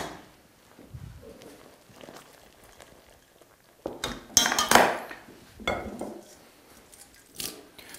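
Hot soba noodles are drained in a kitchen: quiet clinks of a pot lead into a short, splashing rush of water, followed by a few more bumps and clatters of cookware.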